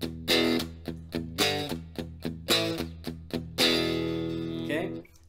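Distorted electric guitar plays a fast rock and roll riff, repeated chugging chord stabs in a quick driving rhythm, ending on a long ringing chord that cuts off, loud and close.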